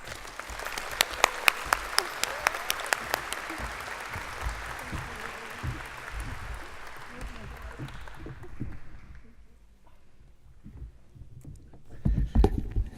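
Applause greets Mayor Suzanne Fuentes at El Segundo's 2018 State of the City, a dense burst of audience clapping that swells early, then thins and fades out, before a few low sounds at the end.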